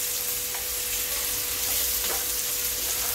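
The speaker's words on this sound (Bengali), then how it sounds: "চিকেনটাকে আমি মশলার সঙ্গে ভালো করে কষিয়ে নিচ্ছি।" Marinated chicken fries with spices for a quick Bengali chicken kosha, a dense, steady, close sizzle filling the whole stretch, with faint stirring touches.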